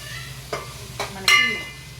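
Masala frying in a pan for a tamarind fish curry with okra, giving a soft steady sizzle with a few sharp stirring scrapes and clinks near the microphone.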